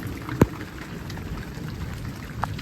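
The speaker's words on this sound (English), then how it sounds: "I think it's almost over now, just a summer storm." Summer thunderstorm with steady rain falling outdoors, a soft continuous hiss of drops with one sharp nearby drip or knock early on; no thunder crack stands out and nobody speaks.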